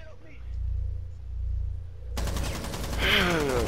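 Rapid gunfire in Rainbow Six Siege comes in dense bursts, loud and close, under excited talk from a player.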